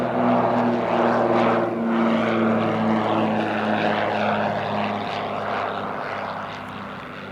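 A propeller airplane drones steadily as it comes in to land at Spirit of St. Louis Airport, a loud continuous engine hum that fades slightly toward the end, with no other sounds over it.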